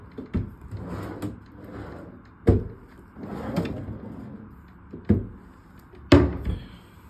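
Wooden drawers in a hotel room being pulled open and pushed shut, giving several sharp knocks and slides at irregular intervals, close and moderately loud with no talk.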